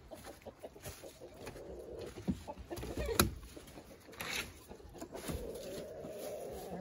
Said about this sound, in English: There's our roosters.